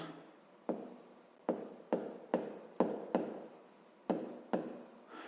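Pencil writing out a grade 5 math word problem by hand on paper, a series of about nine sharp scratchy strokes in irregular rhythm, close and fairly quiet, with no one talking.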